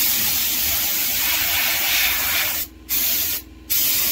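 A compressor-driven Harbor Freight paint spray gun hisses loudly and steadily as it sprays, then cuts off in two brief pauses near the end.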